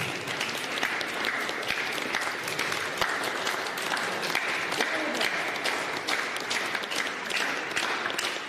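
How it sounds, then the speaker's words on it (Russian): Sustained applause from an audience at a medal award ceremony during a photo exhibition opening in the Russia–My History park, steady dense clapping filling the room for several seconds with no talk over it. "Дорогие друзья, поддерживаем аплодисментами этот момент."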